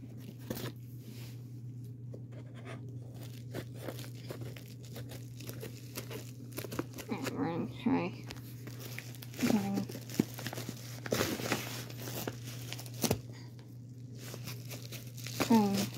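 A mailed package that arrived battered is torn open, with crinkling and ripping bursts scattered over a steady low hum while a person talks intermittently nearby.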